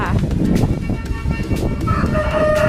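Backyard chickens kept as a hobby flock in Germany cluck and call close by, with crowing-like calls over outdoor noise, while someone talks over them.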